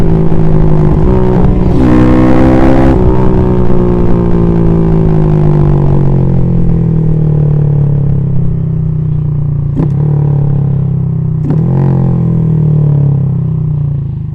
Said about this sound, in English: Nice little rev match downshift over there.